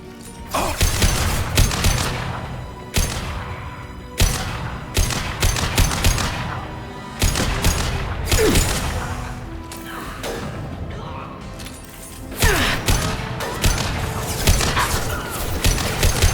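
Rifle gunfire in Mass Effect 2 Legendary Edition: a series of loud, close, sharp shots in irregular bursts, with mechanical clacks and crashing impacts between them and occasional game voices underneath.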